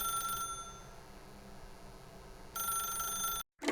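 Telephone ringing in the video game The Stanley Parable, two bursts of electronic bell trilling, close and clear, separated by a long pause with a low room hum, then a sudden cutoff.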